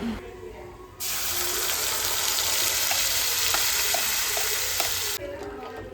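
Coconut chutney paste poured into a hot tempering of mustard seeds, dried red chilies and curry leaves bursts into a loud, dense sizzle that holds steady for about four seconds, then cuts off abruptly into near quiet.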